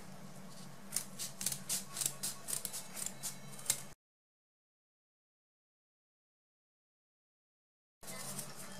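Scissors snip ribbon diagonally for a craft hair bow, a quick series of close, crisp cuts over a low hum before the sound cuts out to silence.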